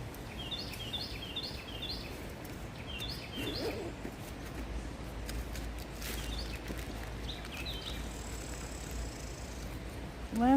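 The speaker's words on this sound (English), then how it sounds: "Listen to those birds." Birds singing by a river, faint repeated chirping phrases above a steady low rush of background noise, distant and soft throughout.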